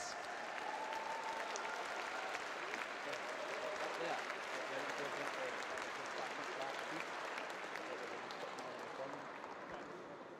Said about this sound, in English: a huge round of applause for the IFSC Lead Women's World Cup